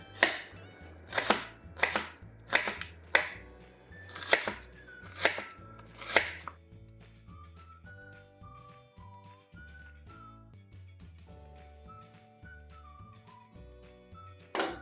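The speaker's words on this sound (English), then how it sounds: "Chop 1 onion." An onion is chopped with a knife on a board: about nine sharp, evenly spaced strikes fill the first six seconds, then the chopping stops and soft whistled or tonal notes carry on alone.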